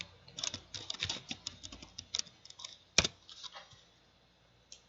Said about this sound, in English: Then we're going to type shutdown.